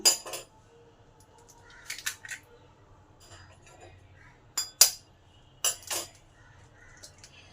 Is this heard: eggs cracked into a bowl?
yes